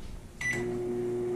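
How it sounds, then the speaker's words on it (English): A microwave oven hums steadily after starting up, heating soft plastic for pouring swim baits; a click and beep-like tone at the start, then a continuous close drone with no talking. "while that's cooking in the microwave"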